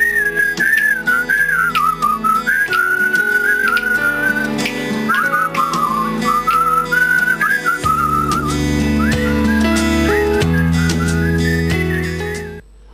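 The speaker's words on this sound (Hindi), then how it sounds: "जिनके लिए सीटी बजाना एक पैशन है।" A person whistles a wavering melodic tune with the lips, loud and continuous, over steady backing music with a deeper rhythmic accompaniment that grows fuller toward the end.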